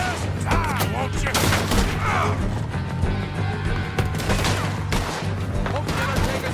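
Gunfire in the video game Red Dead Redemption 2, rapid bursts of shots and ricocheting impacts layered over continuous music, with shouting voices in the mix.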